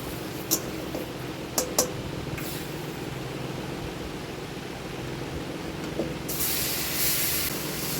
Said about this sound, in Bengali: ফোড়নটা পুড়ে গেছে, এবার কচু শাকটা দিয়ে দিচ্ছি।